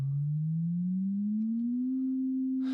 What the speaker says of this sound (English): If I was to increase the frequency of this sine wave, so like before, I'll raise it by an octave